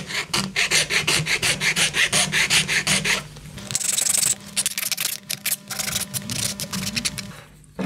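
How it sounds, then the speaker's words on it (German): A hand file scraping excess material off a 3D-printed part for a model car charging station, in rapid, regular back-and-forth rasping strokes, then slower, scattered scrapes and taps, close and alone without talk. "Das mache ich immer mit der Feile weg."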